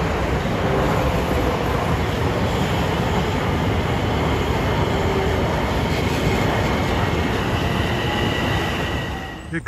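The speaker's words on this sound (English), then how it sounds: "Here comes train 22, Jamaica to Montauk at 6:50, the old 2716." A Long Island Rail Road train running from Jamaica to Montauk arrives at a station with a loud, continuous rolling rumble and rail noise close by, holding strong throughout before easing off right at the end.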